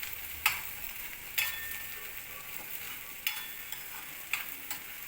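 Ponaganti leafy greens frying in a pan, a faint continuous sizzle punctuated by several sharp clicks and taps of a spoon against the pan at irregular intervals.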